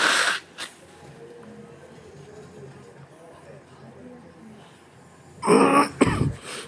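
A harsh cough bursts out at the start, followed by quiet room tone, then a cluster of loud, raspy coughs and throat clearing near the end.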